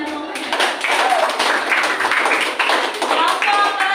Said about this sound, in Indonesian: Kasih tepuk tangan kepada Mama